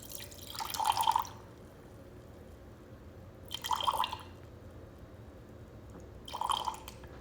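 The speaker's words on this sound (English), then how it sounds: "we are going to add 50 grams of filtered water." Filtered water trickling into a jar on a kitchen scale while feeding a sourdough starter, three short pouring bursts separated by quiet pauses, close but faint, with no talk.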